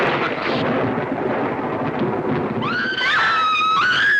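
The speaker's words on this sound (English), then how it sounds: "there was a sudden clap of thunder and the lights went out." In a 1944 film, a loud, crackling roar of thunder over a steady rain-like hiss, then high wavering wails rising and falling near the end.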